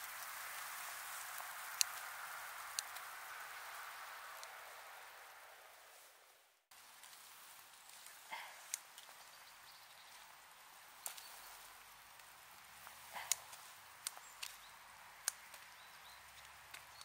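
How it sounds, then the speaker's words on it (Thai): Sleet and snow pellets patter softly on forest leaves, a faint continuous hiss like light rain with scattered sharper drips and taps close by. "เสียงหิมะเริ่มดังมาเรื่อยๆละมันตกแบบกึ่งหิมะกึ่งลูกเห็บอะเป็นเม็ดอะพอกระทบใบไม้มันก็ดังเปาะแปะเปาะแปะเหมือนฝนตกอะ"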